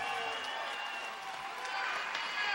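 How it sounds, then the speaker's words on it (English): A fight crowd at Tachi Palace Fights applauding fighter Ricky Wallace: steady, dense clapping and cheering spread evenly across the whole stretch, heard from a distance and fairly faint. "Round of applause for Ricky Wallace, a game fighter"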